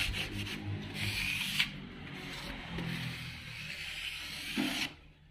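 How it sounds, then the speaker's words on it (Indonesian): Sandpaper rubs steadily over dried wood filler on a wooden cargo box for an assembled three-wheeled vehicle, a continuous close scraping hiss with brief pauses between strokes. "Digosok dengan amplas yang ukuran 100 itu bisa, atau 200 bisa"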